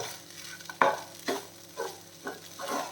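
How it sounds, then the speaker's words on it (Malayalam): Poha is stirred with coriander leaves in a pan over a low flame, with four or five distinct scraping strokes of a spoon at an even pace over a soft, continuous sizzle. "ഇനി ഇതിൽ കുറച്ച് മല്ലിയില ഇട്ട് കൊടുക്കാം. അതും കൂടെ ചേർത്ത് മിക്സ് ചെയ്തിട്ട് നമുക്ക് ഫ്ലെയിം ഓഫ് ചെയ്യാം."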